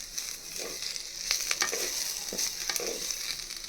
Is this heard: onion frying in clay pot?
yes